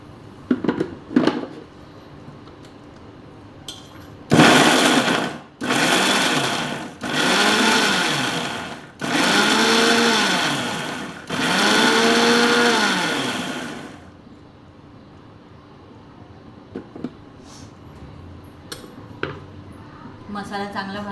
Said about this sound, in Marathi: मिक्सरमध्ये वाटून घेते मी